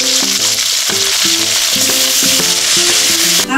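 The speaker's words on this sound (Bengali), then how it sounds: "আমি আগে উচ্ছেটা ভেজে নেব।" Sliced bitter gourd sizzles in hot oil in a home kitchen, an even, continuous frying hiss lasting throughout under a melodic background music track.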